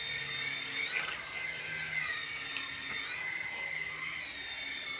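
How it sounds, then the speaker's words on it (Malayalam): A helicopter flies low, kicking up dust below it, with a steady high-pitched turbine whine over a faint low rumble throughout. "ഈ ഹെലികോപ്റ്റർ പോകുമ്പോൾ നോക്കി അതിൻ്റെ താഴെയുള്ള പൊടിയൊക്കെ പറക്കണ്."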